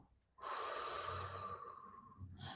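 A long, soft breath out through the mouth during a guided breathing exercise, steady airy exhale lasting nearly two seconds, close and quiet, followed by a short inhale.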